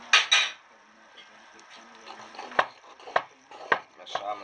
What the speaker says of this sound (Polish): i teraz bierzemy tutaj margarynę płynną, już jest fajna ciecz, i wlewamy. I dokładnie mieszamy.